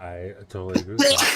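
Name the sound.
sneeze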